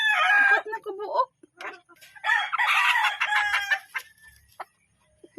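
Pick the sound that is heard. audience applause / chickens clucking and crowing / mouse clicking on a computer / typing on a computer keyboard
chickens clucking and crowing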